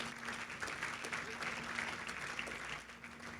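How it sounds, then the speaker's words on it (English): An audience gives a round of applause to a panel of women at a commerce-building event. The clapping is steady and fairly soft and distant, then fades off near the end. "Let's give the ladies a round of applause."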